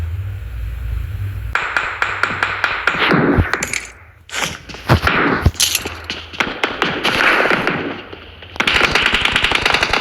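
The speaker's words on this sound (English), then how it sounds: "Someone shooting up here." Bursts of rapid automatic gunfire and single shots ring out in a first-person shooter video game. The firing is loud and close, with short pauses between the fast rattling volleys.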